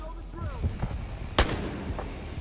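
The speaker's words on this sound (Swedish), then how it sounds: "Ett skott." A sharp, loud gunshot cracks out amid a few softer thumps, with faint voices murmuring in the background.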